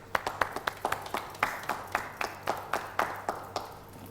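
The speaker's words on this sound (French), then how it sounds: "Merci de l'applaudir pendant qu'il arrive." Studio audience at a Burkina Faso TV variety show clapping for a young musician arriving on set, a thin scattered round of separate, distinct claps at a moderate distance with no voices over it.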